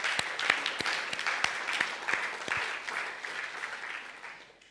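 Church audience applauding a 74-year-old woman at a mission report, a short burst of hand clapping that is strong at first and then thins and fades over a few seconds.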